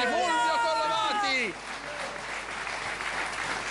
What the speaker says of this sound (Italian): hai avuto un applauso clamoroso